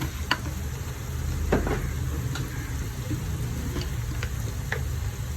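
Chopped tomatoes frying in a pan for chicken biryani, a steady close sizzle with a few sharp stirring scrapes and clicks scattered through it.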